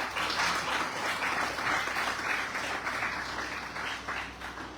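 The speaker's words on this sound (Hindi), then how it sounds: "जोरदार तालियों के साथ उनका भी स्वागत करें।" Steady, enthusiastic applause from an audience at a poetry recitation competition, many hands clapping continuously without pause.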